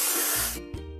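Spray paint hissing over discolored patches in a children's vehicle-building game, a steady broad hiss for about half a second that cuts off into fainter cartoon sound effects.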